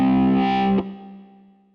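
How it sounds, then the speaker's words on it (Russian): A distorted electric guitar voice from a Medeli AKX10 synthesizer rings out as one thick sustained chord, cuts off abruptly and leaves a fading low tail. "У меня звучало пианино, орган и электрогитара."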